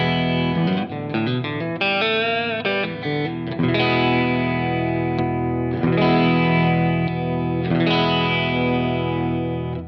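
PRS SE Custom electric guitar with its pickup in coil-split position, played through distortion with chorus, a run of quick notes and chords ringing into sustained, loud chords, close and alone.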